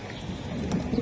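Racing pigeons kept for sale with eggs give soft, low cooing close by, a few brief murmuring coos over faint background noise.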